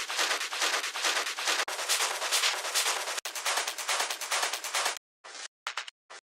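Dense, rapid metallic Schranz hard techno top loop with bright hissy hi-hats, driving relentlessly for several seconds before cutting into a few choppy stuttered bursts.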